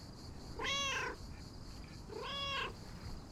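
A cat meows twice in the video game Lake, with two clear, drawn-out calls separated by a short pause and no talking over them.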